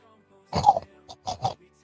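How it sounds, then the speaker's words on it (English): A person clears their throat in a short, rough burst, followed by two quieter guttural rasps, close up in an otherwise quiet space. "Just had to clear my throat there."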